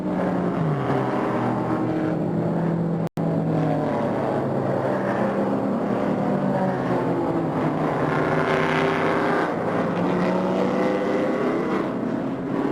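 Race cars in a Grand Am Cup race at Virginia International Raceway scream past with rising and falling engine pitch and gear changes, one loud continuous pass after another, with a brief dropout near the start and no talk.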